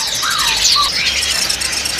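A male pentis raja calls among caged birds at a bird market in Bekasi, West Java: loud, bright squeaky whistles and chirps up close over a busy background hum.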